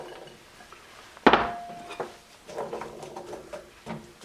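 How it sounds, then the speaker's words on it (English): Potatoes drop into a pan of melted butter and oil with a sharp clatter, followed by a sizzle and scattered light clinks and scrapes of kitchen utensils. "go ahead and throw your potatoes in"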